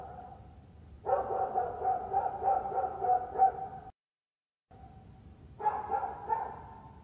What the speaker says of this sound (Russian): 40 минут вот такой лай стоит.